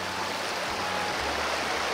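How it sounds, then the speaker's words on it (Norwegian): Fast, high river water rushing loudly and steadily during a summer river crossing in Langsua National Park, a close, continuous roar of turbulent flow with no voices. "Den blir villere enn den egentlig hadde vært på grunn av så mye vann."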